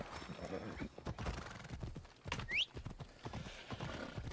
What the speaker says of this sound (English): Oh, hey, horse. You waited.